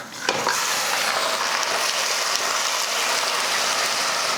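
Mutton sautéing with browned onions and curry leaves in a hot pan makes a steady, close frying sizzle, with a scrape of stirring near the start and continuous crackle throughout; no talking.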